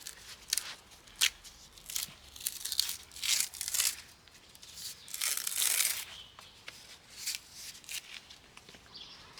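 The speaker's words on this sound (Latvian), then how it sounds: "No koka vai no nocirstajiem zariem noplēš mizu." Bark being stripped by hand from cut branches, heard up close as a string of dry tearing and crackling rips, each a fraction of a second to a second long, with quiet pauses between.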